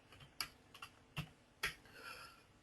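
A computer keyboard clicks as shell commands are typed, with four or five distinct, close keystrokes spaced irregularly, then a softer clatter near the end.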